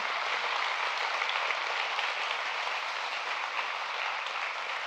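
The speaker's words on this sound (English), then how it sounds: "A round of applause for them." Staff members from Community Action receive a round of applause from a lively morning audience, a dense, even wash of clapping that stays steady from start to finish.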